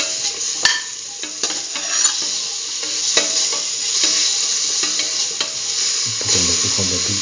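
A potato and cucumber stew is stirred in a sizzling pan with salt just added, producing a continuous loud fry hiss with repeated scraping strokes and occasional clicks of the utensil against the pan.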